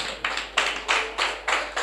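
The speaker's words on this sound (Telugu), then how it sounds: "చప్పట్లు కొట్టాలి ఒకసారి." A church congregation claps together in a series of crisp, rhythmic bursts, about six evenly spaced rounds of applause, moderately loud and without talk.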